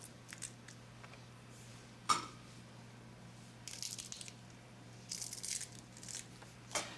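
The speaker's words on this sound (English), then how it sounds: "I'll take our lobster legs off" Lobster legs are pulled and snapped off by hand in a kitchen, giving a few sharp cracks and bursts of crunchy tearing and rustling scattered over a quiet low hum, with no talk.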